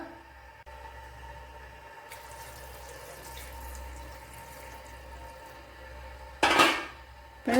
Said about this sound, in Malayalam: ഇനി വേവാൻ ആവശ്യമായ വെള്ളം ഒഴിച്ചു കൊടുക്കാം.